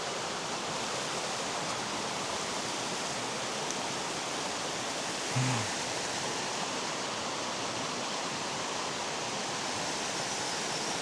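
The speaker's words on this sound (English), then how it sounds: "Head to the big creek." Flowing water of a big creek in the Arkansas outdoors, a steady broadband rush holding even and moderately near for the whole stretch, with one brief low thump partway through.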